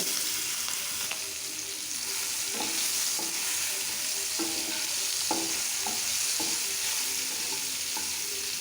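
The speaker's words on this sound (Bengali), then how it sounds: "এবার চিংড়ি মাছগুলো ভেজে নেব।" Prawns frying in hot mustard oil in a pan give a steady, close sizzle throughout, broken by occasional sharper spatters and scrapes.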